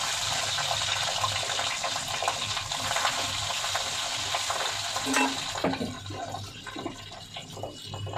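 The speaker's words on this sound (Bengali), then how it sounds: "যে মাছের ডিমটা এই যে গোটা গোটা দিয়ে দিচ্ছি, দিয়ে একটু ভাজা হয়ে আসবে" Steady sizzling of whole pieces of fish roe frying in hot oil in a pan, with some stirring and scraping toward the end.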